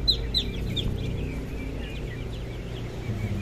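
Two-month-old Brahma chickens cluck softly nearby in short, scattered calls over a low background hum, a few sharper clucks bunched together at the start.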